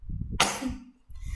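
A single sharp cough bursts out, loud and close, followed by a short hoarse tail, in a quiet room during an accounting lesson; the cough comes from allergy to dust.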